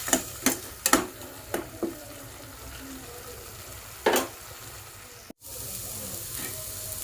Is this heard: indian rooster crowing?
no